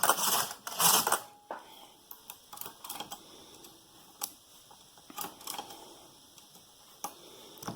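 A knitting machine carriage runs across the needle bed for two rows, two loud whooshing clattering passes up front followed by scattered quieter clicks and ticks, close by with no talking.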